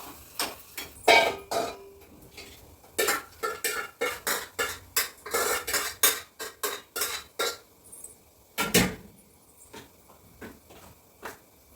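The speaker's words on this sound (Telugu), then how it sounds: "ఉల్లిగడ్డలు అయితే మంచిగా కలపాలండి, అన్నంలో మొత్తం కలిసేటట్టు కలపాలి" Rice being mixed with onions in a bowl: a long run of sharp, rhythmic clinks and scrapes of a utensil against the vessel, close and fairly loud, with no voices.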